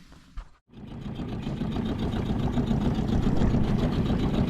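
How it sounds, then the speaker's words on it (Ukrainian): A boat outboard motor warms up in the morning on a pike fishing trip, a steady low idle hum running close by and growing slightly louder after a brief gap near the start. "Трошки зранку прогріваємо мотор"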